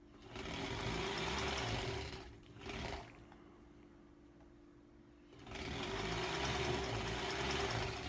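A sewing machine runs steady bursts while stitching granny square quilt strips, loud and close, with a short pause and a brief spurt before the motor resumes for a long run.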